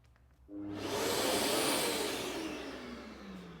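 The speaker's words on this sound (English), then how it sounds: "So here I've got one plugged into an extractor." A Festool dust extractor powered from a Festool SYS PowerStation portable battery unit starts up with a rising whoosh, then runs as a steady, loud airflow roar close by with no talk.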